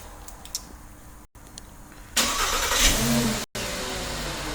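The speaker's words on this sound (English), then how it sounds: "The vehicle will crank and start." Volkswagen Passat engine cranks briefly then catches and starts, settling into a steady idle close by after a short quiet pause, with no talking.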